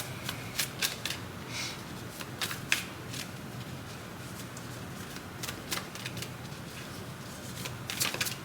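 Tarot cards are shuffled by hand in repeated crisp riffling bursts, close and clear, with short pauses between passes.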